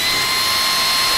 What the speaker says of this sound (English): Attach it to a drill with a pencil on the end.